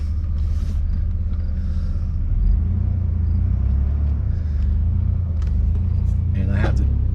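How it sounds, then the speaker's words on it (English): A Chevy 2000 Blazer idles with a steady low engine rumble as its shifter is moved into reverse with a trailer hitched behind, the drone close and constant throughout with a brief clunk near the end. "Okay, I'm in reverse now."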